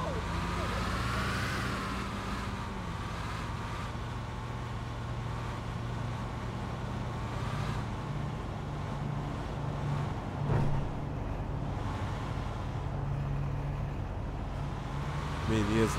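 A Marcopolo Viale bus on a Mercedes-Benz OH-1420 chassis drives in GTA V, its steady low engine drone and road noise running continuously under someone talking over it.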